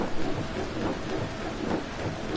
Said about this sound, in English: that's a lot more rain than we had in practice